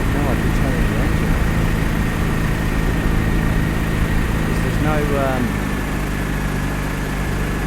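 A small aircraft engine idles steadily before the run-up, a loud, even mechanical drone that runs throughout while people talk over it in the cabin.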